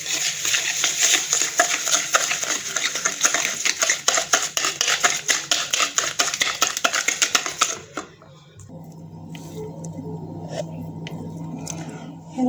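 Eggs and sugar for a custard cake get stirred briskly in a bowl, rapid metallic clinks ticking against the side for several seconds before the clatter stops and a quieter, muffled background takes over.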